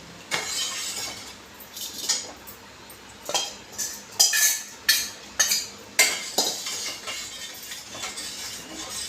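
Ragi flour porridge being stirred in a pot, with a run of irregular scraping and knocking strokes of a utensil against the metal, loud and close, carrying on steadily with no talk.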